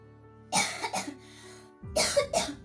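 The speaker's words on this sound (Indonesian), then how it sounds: "aku sedang mengalami batuk, tidak enak di sini, gatal." Two bursts of harsh coughing from an itchy throat, each a pair of rough hacks, separated by a short pause. Close and loud, nothing else heard.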